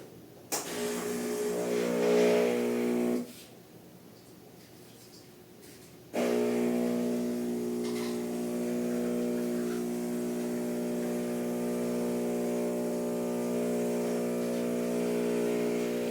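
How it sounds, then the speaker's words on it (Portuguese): An espresso coffee machine runs with a loud, steady mechanical hum and whir, cutting out for a few seconds partway through and then starting up again and droning on evenly. "Vai sair o barulho da máquina do café, gente."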